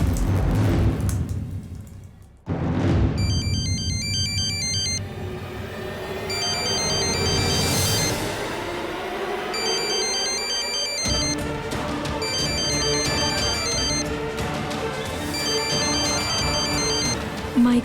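A phone ringtone plays in a Hindi TV drama scene, a repeating electronic melody in short bursts over a continuous dramatic music backdrop, loud and near, with no talk.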